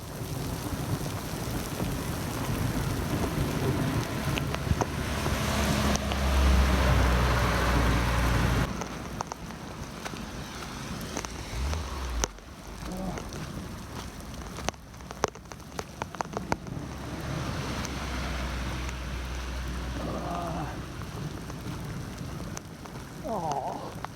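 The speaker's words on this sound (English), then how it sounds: "That's the thunderstorm" A thunderstorm with steady rain pattering on surfaces and low rumbles of thunder, heavy at first then easing to a softer, continuous downpour with occasional sharp cracks.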